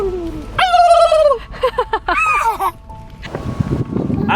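A turkey gobbles loudly nearby at a campsite, with a long trilling call followed by a rapid stuttering series, then quieter background noise.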